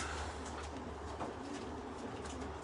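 Faint pigeons cooing at a racing-pigeon loft, soft low coos over a quiet steady background hiss, with no voices.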